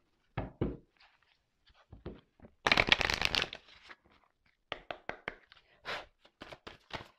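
Tarot cards shuffled by hand in a quiet room: scattered soft taps and flicks, then a dense riffling burst lasting about a second, followed by more short, crisp card snaps and taps, close and clear with no talking.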